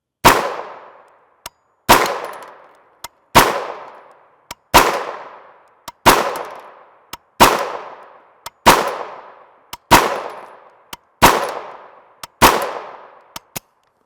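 Ten evenly spaced single gunshots from a UTAS Mini 9 straight-blowback 9mm carbine with a 6-inch barrel, each a loud sharp crack with a ringing decay, about every 1.4 seconds, with faint clinks of brass between shots.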